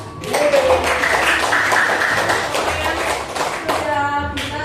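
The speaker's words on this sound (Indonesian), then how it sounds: "Beri aplaus buat TCKT 3" Applause from a school class, TCKT 3, at the end of a vocational lesson: continuous dense clapping from a group, steady and fairly loud for several seconds, fading slightly toward the end.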